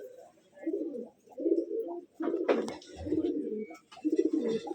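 Domestic pigeons kept by a hobbyist coo in repeated low, throaty bursts close by, several phrases in a row with short pauses between.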